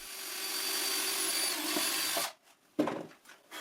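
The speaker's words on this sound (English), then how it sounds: "I drill a hole with a diameter just slightly smaller than the nail diameter" A power drill whines steadily for about two seconds boring a hole in a wooden workpiece for a table saw circle jig, then stops abruptly, followed by a few short clicks and taps nearby.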